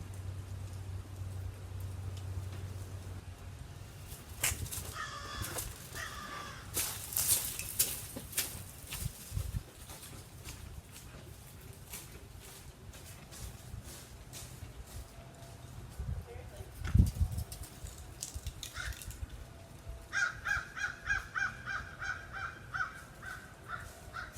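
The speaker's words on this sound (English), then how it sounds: "these Florida birds, they just don't know how to act right" Florida birds caw repeatedly outdoors, with harsh crow-like calls scattered through the clip and a rapid burst near the end, over a steady patter of background noise.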